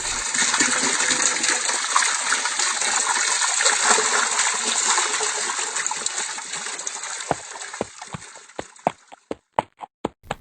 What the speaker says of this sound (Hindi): वह तालाब के किनारे गया और घोड़े ने पिया जी भर के पानी।